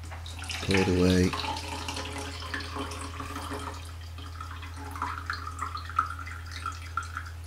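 Rinse water pours out of a daylight-loading Rondix 35 film developing tank, a soft steady trickle and splash at low level, with a brief louder burst near the start and faint drips after.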